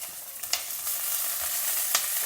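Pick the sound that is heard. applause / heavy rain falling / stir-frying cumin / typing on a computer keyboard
stir-frying cumin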